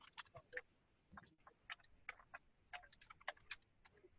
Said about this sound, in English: I hear someone typing in the background